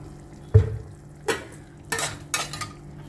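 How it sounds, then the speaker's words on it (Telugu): Boiled mutton pieces fry in oil in a pan, with faint background sizzle broken by four sharp scrapes and clanks of a spoon stirring against the metal. "ముక్క ఉడికిపోయిన తర్వాత ఇంకా మనం ఆయిల్ వేసి ఫ్రై చేసుకోవడమే."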